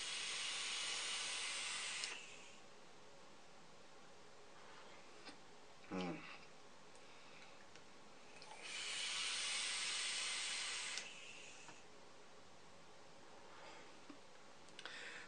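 Two long exhales of vapour from a Sigelli 100 Watt Plus mod loaded with Code Red 70 VG/30 PG e-liquid, each a steady broadband hiss lasting about two seconds, with a faint click between them.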